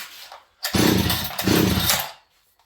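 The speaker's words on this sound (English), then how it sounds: "This thing's running kind of erratically right now. Maybe we have a carb issue. Let's start it again." A Farmertec 288 chainsaw engine runs erratically, probably from a carburetor fault, and roars up in two loud close bursts with a brief dip between them before it cuts out.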